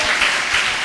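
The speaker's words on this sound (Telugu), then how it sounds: "చప్పట్లు కొట్టి గట్టిగా చెప్పండి" Congregation clapping at a Sunday church worship service, a dense, steady roar of many hands that fills the hall without pause.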